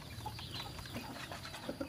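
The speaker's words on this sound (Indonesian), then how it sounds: "ini ayam yang terkena ngorok ya sahabat, yang sakit ngorok" A sick chicken with ngorok, a respiratory snoring disease, giving faint raspy clucks and breathing sounds in a quiet, steady background with no talking.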